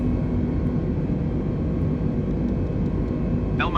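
An Airbus climbing after takeoff in a flight simulator game, heard as a steady low cabin drone and engine hum. A faint electronic tone chirps briefly at the very end.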